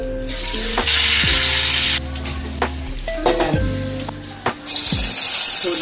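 A tarli fish head fries in a pan of hot oil, giving a loud, steady sizzle. Several sharp clatters and scraping knocks from the pan cut through it, with brief dips in the frying noise.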